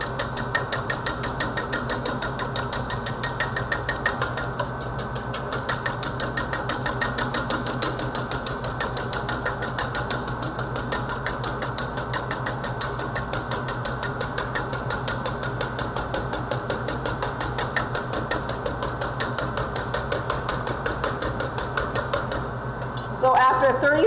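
Egg whites whisked by hand toward a medium-to-firm peak, a fast steady rattling of wire against the bowl running continuously and close, with a voice talking over it.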